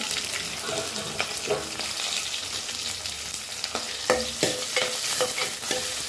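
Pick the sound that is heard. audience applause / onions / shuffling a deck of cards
onions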